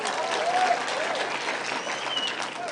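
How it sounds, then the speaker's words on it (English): Audience applause at a youth mentorship forum at Nyeri National Polytechnic, a dense, steady wash of many hands clapping that holds at an even level throughout, with a faint crowd murmur underneath. "Please clap for her."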